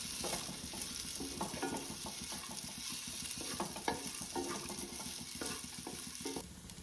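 Sago pearls being stirred and roasted in a pan for chowari payasam, a continuous close scraping stir with a soft sizzle and occasional light clinks, steady throughout with no voices.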